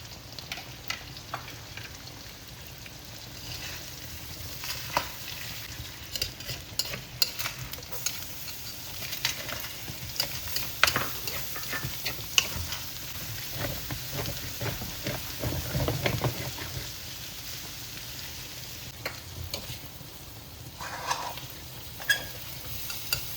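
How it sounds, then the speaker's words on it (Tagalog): Beef steak being sautéed in a kawali, a steady broadband sizzle with scattered crackles and stirring clatter running throughout, moderately close and without voices. "magsosote na po tayo para gawin na nating beef steak. Same kawali."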